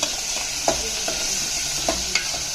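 Sambar being stirred in a pot after ingredients go in, a spoon scraping and sloshing in a few distinct strokes over a soft background sizzle, close and fairly quiet with no talking.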